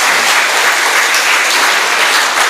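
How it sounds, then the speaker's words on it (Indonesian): Steady, dense applause from a school audience of parents, teachers and students at a junior high school legal-awareness event, loud and continuous throughout with no talk over it. "Ya, tepuk tangan."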